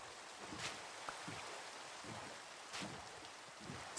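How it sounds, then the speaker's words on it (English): Steady rain falls in Minecraft at a woodland mansion, a soft continuous hiss of drops with faint patters, fairly quiet and alone throughout. "So much wet, so much water, so much rain. Oh, the rain. It's everywhere."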